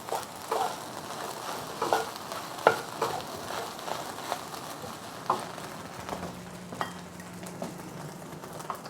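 Egg fried rice sizzles in a pan over medium heat while a utensil stirs it, with soft scraping strokes and occasional sharper knocks above a steady low fry, no talking.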